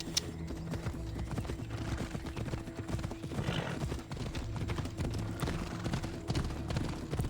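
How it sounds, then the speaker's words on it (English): Horse hooves clip-clopping in Assassin's Creed Odyssey during riding, a steady rhythmic patter running throughout beneath game ambience, with a faint whinny partway through. "There's a lot of horse riding in this update."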